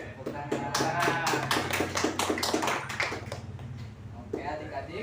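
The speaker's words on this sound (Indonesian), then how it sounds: "Oke, tepuk tangan." A school audience claps in an Islamic university classroom setting, a burst of rhythmic, fairly loud hand claps lasting about three seconds and then fading into background chatter and a voice.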